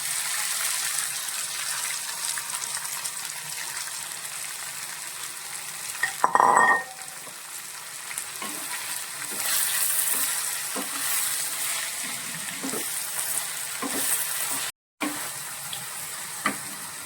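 Chopped elephant foot yam stems stir-fry with urad dal in a pan, giving a continuous soft sizzle with occasional spoon scrapes and one louder stirring clatter, close by and with no talking.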